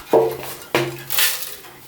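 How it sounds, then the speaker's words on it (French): Loose debris, likely rust, rattles and clinks inside the empty metal fuel tank of an old motorcycle left abandoned for eight years, with two sharp knocks then a shaken rattle, close and alone. "Le réservoir a l'air totalement vide de carburant, mais on entend des trucs se balader dedans."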